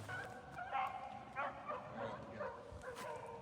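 A beagle on a rabbit hunt gives short, distant yips and bays in scattered bursts, faint against outdoor quiet, with a few whimpering notes in between.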